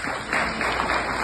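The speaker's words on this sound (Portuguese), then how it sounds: "salve de palmas" An audience at a talk show event claps together, a brief burst of dense, fairly loud applause with no voices over it.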